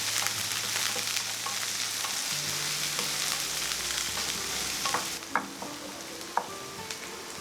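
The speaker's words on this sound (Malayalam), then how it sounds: "കുറച്ച് കറിവേപ്പില അതിട്ടിട്ട് ചെറുതായിട്ടൊന്ന് വഴറ്റണം." Sliced onion, four dried red chillies and curry leaves sautéing in a pan for chayote thoran, a steady close sizzle with occasional scraping stirs and light taps of a spoon.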